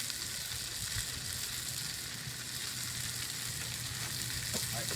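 Pad thai noodles sizzle in a little oil on a hot chimenea grill, a steady, even hiss with faint crackles and no voices over it.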